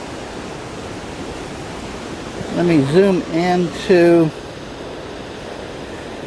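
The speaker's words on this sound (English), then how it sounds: "Here's the scene back behind the mosque, showing the ocean waves coming in." Ocean waves wash onto the seaside behind a mosque in Casablanca, Morocco, a steady broad roar of surf; someone speaks briefly over it midway.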